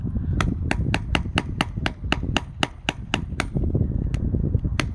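A hammer strikes a screwdriver seated in a geode to crack it open, giving a steady series of about fifteen sharp metallic taps, close and loud over low background rumble.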